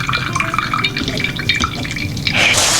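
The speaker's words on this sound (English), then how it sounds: "we're gonna drain the chickpea juice" Chickpea liquid pours from a can into a sink, a close, steady trickle of dripping liquid that swells into a fuller, louder splashing stream near the end.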